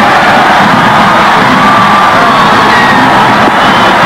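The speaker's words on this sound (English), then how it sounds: "Listen to the crowd in here." Basketball arena crowd roaring and cheering after a deep-corner three-pointer in a 1987 college game between the Bradley Braves and the Memphis Tigers, a dense, sustained wall of cheers and whoops filling the whole span at full loudness.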